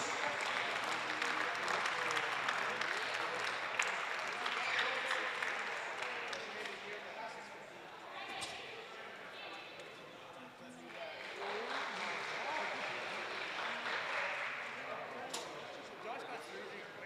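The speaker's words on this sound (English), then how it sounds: "let's hear a big round of applause for our Trojans athletes" Fans clap for Trojans student-athletes at a women's basketball game between SAIT and the Briercrest Clippers, a steady wash of applause and crowd noise filling the gym, with an announcer's voice over it.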